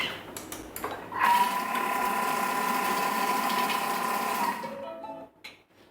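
A Thermomix running at speed 6 mixing potato salad: a steady whirring motor hum that holds for about four seconds after a few clicks, then winds down and stops.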